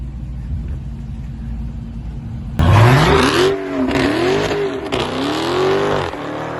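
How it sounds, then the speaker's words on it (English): A Dodge Hellcat Jailbreak at a mansion car meet, idling with a deep rumble and then abruptly blipped into several loud, close revs that rise and fall in quick succession. "I want to hear the Hellcat."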